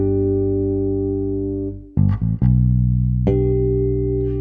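Bass guitar plays two chords built from ringing harmonics, joined by quick thumbed passing notes between them, alone with no voices; sustained chiming tones break into a few plucked notes, then ring again.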